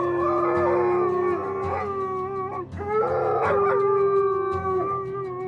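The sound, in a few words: dog howling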